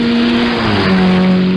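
A hillclimb race car at the Jaguar Simola Hillclimb accelerates hard and loud, its engine note climbing through a gear change as it roars close by with no talk over it.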